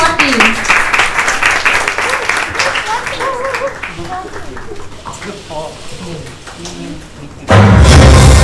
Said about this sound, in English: Let's give them a round of applause to the group 14.